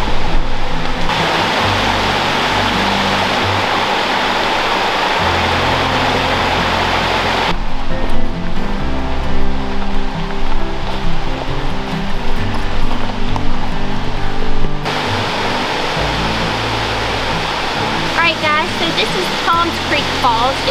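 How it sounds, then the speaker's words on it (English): A multi-tiered, cascading 80-foot waterfall at Toms Creek Falls in the Blue Ridge Mountains roars with a steady, loud rush of falling water that continues throughout. "It's a beautiful multi-tiered cascading 80-foot waterfall."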